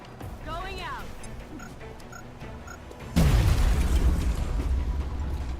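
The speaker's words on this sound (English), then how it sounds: "let's soften them up with this grenade." Grenade explosion in the video game XCOM, a sudden heavy boom about three seconds in that leaves a rumbling tail, with game sounds and voices in the lead-up.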